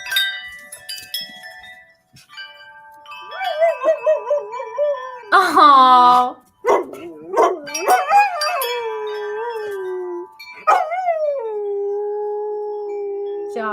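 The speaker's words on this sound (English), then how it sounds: "Dog sings her heart out to wind chimes." A dog howls and sings along to tinkling wind chimes outdoors, its long wavering, rising and falling wails loud and close, with a few yips and whimpers; a person briefly reacts.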